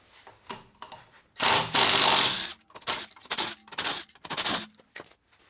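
A socket wrench ratchets on a wheel nut of a T3 VW Vanagon during a rear disc brake install, giving quick clicking bursts with a longer loud mechanical rasp in the middle.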